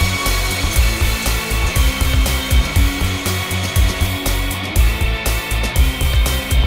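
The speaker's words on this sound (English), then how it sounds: "We just hear the flints hitting the slurry pipes on our return line, and we have all the hydraulic and electric motors on my right hand side" Inside an HS2 tunnel boring machine, hydraulic and electric motors drone steadily while flints clatter and knock against slurry return pipes in dense, irregular bursts, loud and close with no voices.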